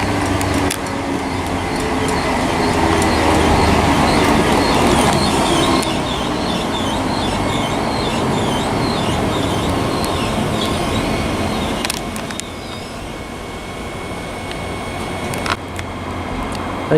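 A ScotRail Class 365 electric unit pulls out of Linlithgow station toward Edinburgh Waverley, a steady rolling rumble and hum close by with faint wheel clatter, fading a little toward the end.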